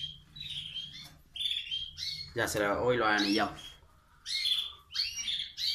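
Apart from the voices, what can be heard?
birds chirping in a home aviary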